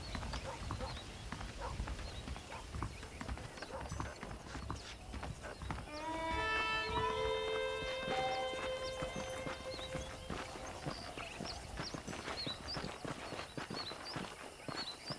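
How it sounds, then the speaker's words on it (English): Horses walking in the Red Dead Redemption video game, a steady clip-clop of hooves close by, with a horse whinny partway through and someone talking over it. "The horses are saddled up over here."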